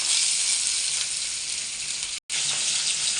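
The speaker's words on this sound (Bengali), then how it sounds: "পেঁয়াজটা ভাজা ভাজা হয়ে গেছে" Steady, dense sizzling of onions frying in hot oil, loud and close, with a brief cut to silence near the end before the crackle resumes.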